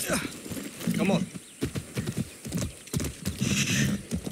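Hooves clip-clop steadily at close range while a horse lets out whinnies over the hoofbeats, in the video game Far Cry 6.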